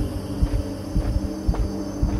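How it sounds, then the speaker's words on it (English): A creature's heartbeat in the game INSIDE pulses as a low, muffled double thump about twice a second, steady and close over a faint droning hum. "I can hear his heart beating"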